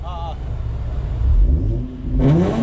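A Hyundai Genesis engine rumbles low and steady, then rises in pitch as it revs up near the end, close by.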